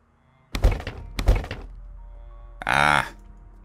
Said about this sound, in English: Destroy door.